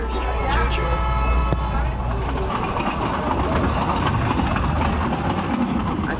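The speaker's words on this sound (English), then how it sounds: "This is my first train ride ever, actually." A Peru Rail panoramic train bound for Machu Picchu runs along the tracks with a steady, loud rumble and rhythmic clatter throughout, while voices murmur underneath.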